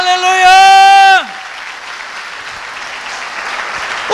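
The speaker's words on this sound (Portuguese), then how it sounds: "Vamos aplaudir Jesus na vida do Juca e do discípulo." A church congregation claps during a sermon after a loud sustained sung or shouted note, with the applause continuing as a steady, moderate wash.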